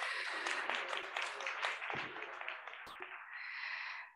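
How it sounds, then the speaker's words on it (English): Audience applause at the Tax Transparency in Africa 2022 launch event, a full room clapping in a dense burst that thins out and fades toward the end. "Another warm round of applause."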